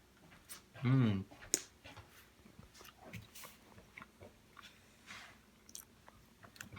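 Close, soft chewing on homemade spaghetti noodles, with faint wet mouth sounds and one brief louder vocal sound near the start.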